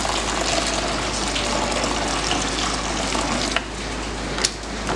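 Hot water is poured into batik dye with a steady, close, gushing splash that lasts throughout and eases slightly near the end. No one speaks.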